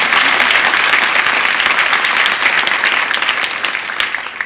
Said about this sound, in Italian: Piccolo applauso di galanteria, molto bravo.